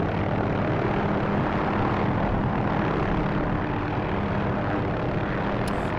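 A steady, loud rotor and engine drone from an OH-6A helicopter in the DCS flight simulator game, continuous and unchanging throughout with no talk.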